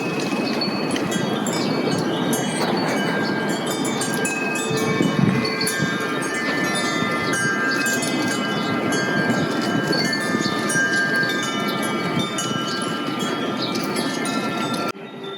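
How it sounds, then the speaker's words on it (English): Wind chimes hanging on houses along a residential block ring in overlapping, sustained metallic tones over a constant breezy wash, chiming on and off without any talk. "all the houses have chimes, and it's magical."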